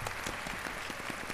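Applause from a crowd in the video game Final Fantasy VII Rebirth, steady dense clapping that fills the short moment at a moderate, even level with no talk over it.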